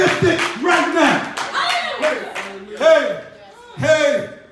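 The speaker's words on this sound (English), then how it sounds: "Let's give God a hand clap" A church congregation claps hands in rhythmic bursts during a worship service, mixed with loud voices calling and singing.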